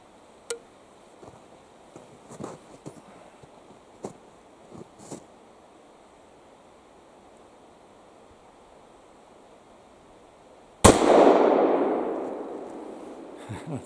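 A Remington rolling block handgun fires a single loud shot, a sharp crack with a long rolling echo that trails off over a couple of seconds, preceded by quiet handling clicks.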